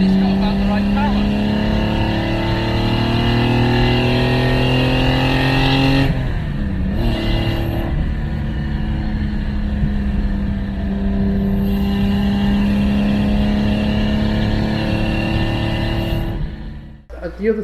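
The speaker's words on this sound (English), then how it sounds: "this is the engine choice because it makes the right sounds" Lancia Stratos replica sports car engine revving loudly, rising pitch in sustained pulls with two brief lifts between, close and dominant before cutting off at the end.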